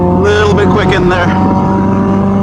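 A Caterham SuperSport race car on track at Sepang Circuit gives a loud, close engine note that rises and falls sharply in a quick throttle blip, then settles into a steady drone.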